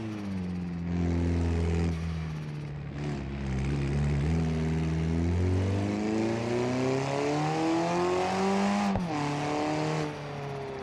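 A boosted car engine in the BeamNG.drive video game, running on its stock bottom end at 15 pounds of boost, drones loud and steady, with the pitch rising and falling as the revs climb and settle, and no voices.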